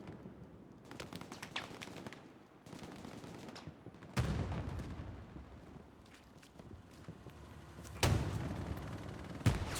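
Medium tanks firing in the World War II shooter game Hell Let Loose, with distant booming shots and crackling gunfire in scattered bursts, including two louder blasts.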